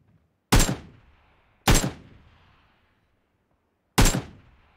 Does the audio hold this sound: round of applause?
no